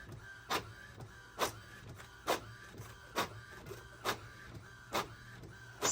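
A printer feeds a lace doily and prints on it, a steady mechanical whir broken by sharp rhythmic clacks about once a second, close and alone with no voices.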